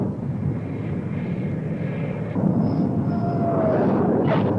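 A-4 jet aircraft returning from a mission over a Navy carrier deck, its engine a steady loud roar that swells slightly partway through, with a faint whine rising above it.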